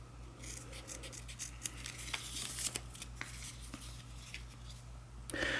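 Scissors snipping through kinesiology tape to round off the ends for a plantar fasciitis taping: quiet, crisp rustling snips and handling noise over a steady low hum, with no talking.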